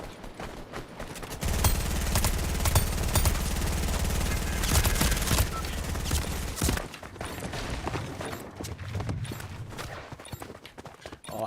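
Rapid P90 submachine gun fire in a video game, a dense sustained burst for several seconds in the first half, then sparser scattered shots and clatter toward the end, with no voice over it.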